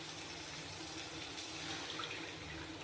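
Water poured into a pan of cooking fish with poppy seed paste, turmeric and green chilli, a steady faint splashing hiss running continuously for a few seconds, with no voices.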